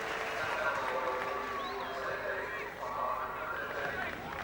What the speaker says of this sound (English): That's greeted with great applause here by the home crowd at Kingsholm